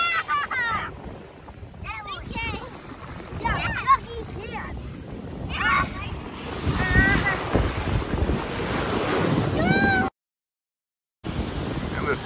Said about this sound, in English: Humbled by the ocean waves.